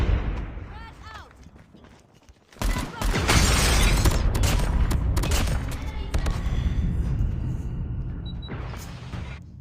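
A frag grenade detonates in a first-person shooter, a sudden heavy blast that rolls into sustained explosive rumble and gunfire, with a player talking over the chaos.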